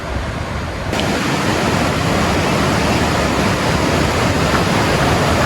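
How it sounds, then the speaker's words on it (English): A river in the Great Smoky Mountains rushes steadily nearby, a dense, even broadband roar that swells slightly after the first second and holds constant with no voices. "You got the river right there."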